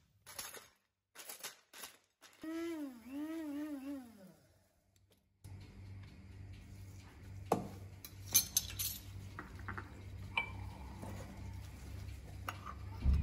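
A spoon clinks and stirs inside a large cup, mixing ground turmeric and black pepper with freshly added boiling water; several bright metallic taps ring over a low background hum, following a quieter stretch with a brief tonal whine.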